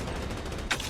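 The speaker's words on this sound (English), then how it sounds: "I heard a lot of gunshots and then nothing." Gunfire in the shooter game Blood Strike, a dense, steady volley of rapid shots filling the whole second, with one slightly sharper burst near the end.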